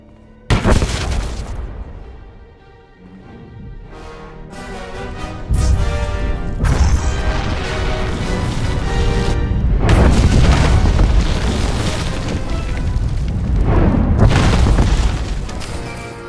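A big game explosion in Star Wars: The Old Republic on Corellia, a sharp loud boom that opens the scene and then rolls on as a long, heavy rumble with crashing debris and further blasts.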